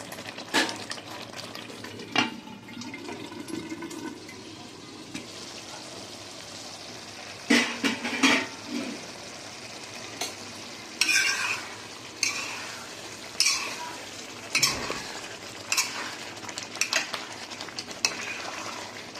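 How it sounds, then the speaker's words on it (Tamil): Spinach and soya masala gravy bubbles and splatters in a pan, a steady background sizzle broken by repeated sharp spits and pops, with occasional stirring clinks nearby. "இந்த மசாலா வந்து கொதிக்கும் போது தெரிக்கும்."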